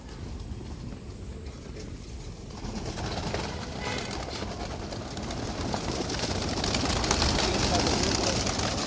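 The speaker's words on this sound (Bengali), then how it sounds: "কিছু পায়রা ভিডিও দেখবা বন্ধুরা আসলে" Pigeons in a home loft coo in a steady low chorus while a person talks nearby, the background growing a little louder toward the end.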